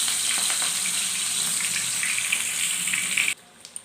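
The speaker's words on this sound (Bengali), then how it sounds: "এখন তেলটা গরম হয়ে গেছে, একটা একটা করে পাতা আমি এরকম করে ঢেলে দেবো।" Bottle gourd leaf fritters frying in hot oil, a loud, steady, close sizzle that cuts off sharply, followed by a few faint clinks.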